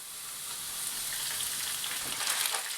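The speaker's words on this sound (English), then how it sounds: "stir fry until the pork mixture is almost cooked." Pork mixture and garlic stir-fry in a hot pan, giving a steady bright sizzle with crackling spatters that swell slightly toward the end, close and continuous with no voices.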